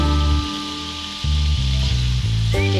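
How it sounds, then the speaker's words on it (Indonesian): Shrimp frying in a pan give a steady, fairly loud sizzle under music with sustained tones that shift in pitch throughout. "Kenapa saya goreng dulu udangnya?"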